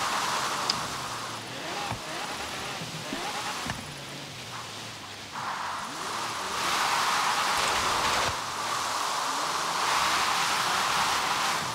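Rain in a drifting car video game, a steady hiss of falling water with car sounds mixed in, holding a fairly even level that swells slightly in the second half.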